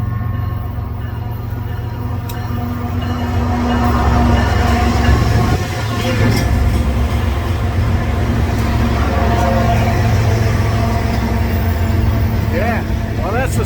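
A BNSF train rumbles past near a bridge over the Mississippi, a steady low roar with rattling and a faint horn or squeal, fairly loud and continuous, with people talking nearby.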